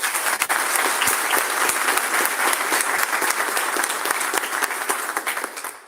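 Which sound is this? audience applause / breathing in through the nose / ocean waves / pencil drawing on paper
audience applause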